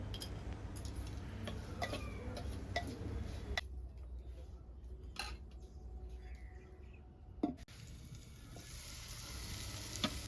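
Onions cook in a pan with turmeric and salt, a quiet sizzle and faint crackle with scattered ticks and light taps of a utensil; the frying hiss thins midway, then returns, all low in level with no talking.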